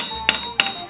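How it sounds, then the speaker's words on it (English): A hammer strikes metal being flattened on an anvil during weapon maintenance, three sharp, ringing blows spaced about a third of a second apart, close and loud with a lingering metallic tone between hits. "Hammering it flat helps take care of some of that."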